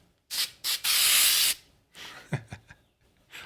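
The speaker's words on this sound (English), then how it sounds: "having a little can to wave around and spray smoke out of it, just kind of fun to mess with" A small handheld can spraying smoke over miniatures: a short hiss, a second burst, then a long steady spray of about three-quarters of a second, followed by a few softer rustles and puffs.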